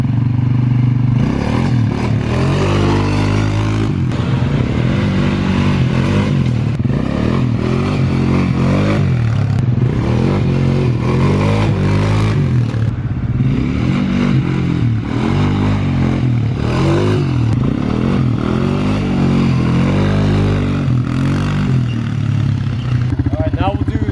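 An Arctic Cat 250 quad revs hard through repeated throttle bursts for a wheelie, its engine note rising and falling steadily for over twenty seconds, loud and close, with voices heard over it.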